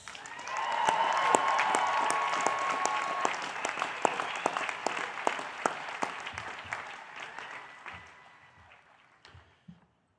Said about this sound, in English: with a very loud round of applause